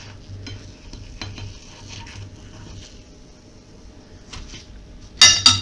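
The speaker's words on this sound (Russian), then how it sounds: "И таким же образом пережариваем все пирожочки." Pirozhki, fried pastries, cook in a pan with a faint, steady sizzle under low background hum. A brief loud clatter of utensils or pan handling comes near the end.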